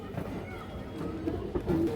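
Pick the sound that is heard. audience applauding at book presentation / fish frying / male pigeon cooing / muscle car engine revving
male pigeon cooing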